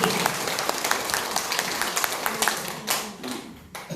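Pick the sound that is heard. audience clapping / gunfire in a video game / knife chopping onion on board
audience clapping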